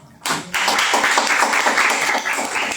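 An audience breaks into applause at a women's civic association gathering in Medellín, Colombia, starting abruptly after a quiet moment and holding as a steady, dense wash of many hands clapping.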